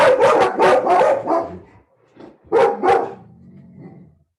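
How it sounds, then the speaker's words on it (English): Dogs at home bark at a passing garbage truck, a quick burst of several loud, close barks followed by a pause and a second short pair of barks, then a low trailing whine. "oh, my dogs are probably going to bark. And then they literally just started barking."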